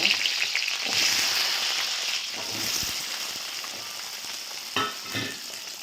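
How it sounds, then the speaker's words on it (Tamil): Small onions and garlic fry in hot oil for a spicy tomato chutney, a bright, continuous close sizzle with a few crackling pops and stirring scrapes. "இப்போ நம்ம சின்ன வெங்காயம் வெள்ளைப்பூடையும் எண்ணெயில் போட்டுருவோம்."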